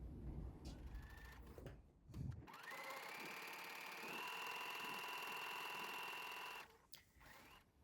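Near and steady, a sewing machine runs a stay-stitch along a gabardine neckline at 2.5 stitch length, with a continuous whirring hum for about four seconds and brief handling noises before and after.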